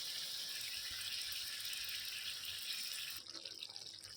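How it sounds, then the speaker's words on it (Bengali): Water running steadily into a cooking pot while a vegetable dish with paneer, cauliflower, carrot and peas is made, a continuous close hiss and splash that thins out near the end. "জল দিয়ে দিচ্ছি"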